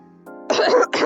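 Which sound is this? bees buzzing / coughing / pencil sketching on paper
coughing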